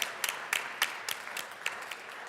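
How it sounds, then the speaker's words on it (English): Sparse applause in a legislative chamber of the Colorado House, a handful of distinct sharp claps standing out over a soft continuous patter, moderately quiet and fairly close, with no talking. "Thank you, and a round of applause."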